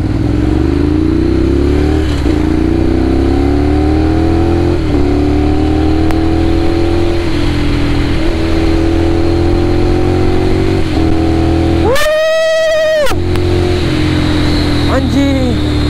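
A Ducati Monster 795 motorcycle on a test ride, its engine droning loud and close with steady revs rising through the gears, and a sharp high rev burst near the end; a rider's voice comes through under the engine noise.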